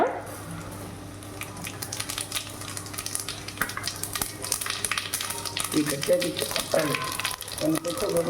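Cashews and cumin seeds frying in ghee in a pan for Chennai-style kattu pongal, a steady close sizzle with stirring scrapes throughout and a few brighter crackles near the end.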